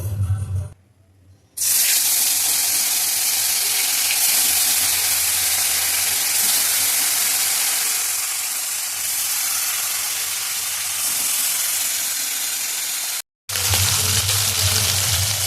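Stinging catfish (shing fish) dropped into smoking-hot oil, bursting into a loud, steady sizzling hiss that fills the whole stretch, with a brief quiet gap near the start and a short cut near the end.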